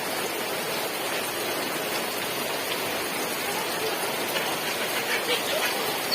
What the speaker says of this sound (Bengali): এই দেখো কত বৃষ্টি, আমাদের উলানে জল ঢুকে গেছে।